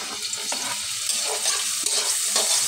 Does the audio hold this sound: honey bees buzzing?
no